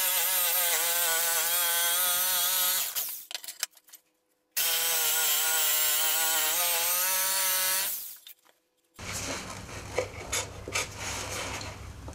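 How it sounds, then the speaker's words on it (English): A jigsaw cuts a decorative edge into a wooden board for a boot scraper. The close, loud motor whine buzzes through two cutting passes, separated by a brief silence. After another stop, a rougher, scratchier noise follows. "I'm going to cut that one with a jigsaw"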